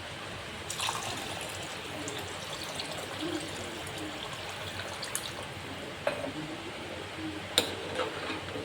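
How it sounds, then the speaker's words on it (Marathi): Water being poured into a pan of washed matki sprouts, a soft continuous trickling and splashing with a few small clinks, close by and fairly quiet, with no talk over it. "त्यात टाकले मम्मीनी थोडंसं पाणी"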